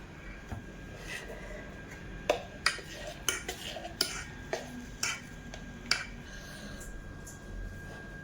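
A spoon stirring cake batter in a metal pot at home, a series of sharp scraping clinks and taps against the pot's sides at an irregular rhythm, close and fairly quiet.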